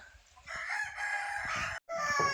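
Chickens call loudly nearby on a farm where they are kept with sheep, with a drawn-out crow and sustained clucking squawks broken by a brief pause.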